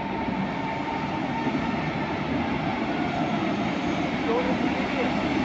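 An old locomotive, a DB class 112, rumbles past as a train, a steady loud low roar with a faint whine that stays even throughout, with a person talking over it.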